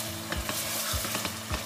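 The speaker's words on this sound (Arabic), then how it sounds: "خليه يتقلى شويه جست ما يتقلى شويه اللحم كيف هكا" Lamb meat frying in a pot for Tunisian mermez, a steady close sizzle with a few stirring scrapes, no voices.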